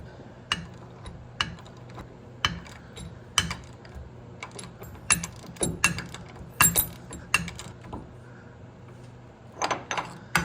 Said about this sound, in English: So I'm going to get the ratchet in there and get that thing snug